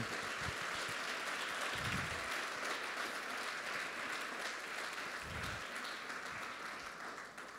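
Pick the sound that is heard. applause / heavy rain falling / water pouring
applause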